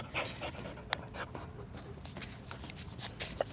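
Dog panting in quick, steady breaths close by, with a few faint footsteps or paw taps and a couple of short clicks; no talking over it.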